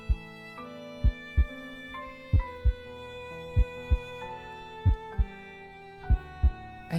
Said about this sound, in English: Oh, the heartbeat's loud.